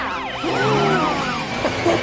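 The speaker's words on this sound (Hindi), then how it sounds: "ट्रैफिक से निकलने के लिए सायरन का इस्तेमाल करो" A cartoon police truck's siren wails in quick, looping sweeps, loud and close, blended with a busy cartoon soundtrack over about two seconds.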